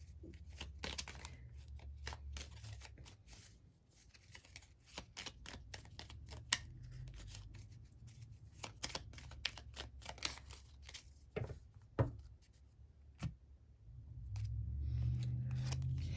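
Oracle cards being shuffled by hand give a faint, close series of soft riffling flicks and taps in uneven bursts over low room noise, with no voices.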